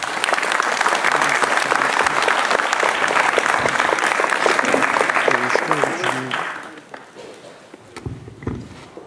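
Applause in tribute at a mayoral candidate's rally in Magliano Vetere, a crowd clapping loudly and steadily for several seconds before the clapping thins out and fades, with a few scattered claps and some voices at the end.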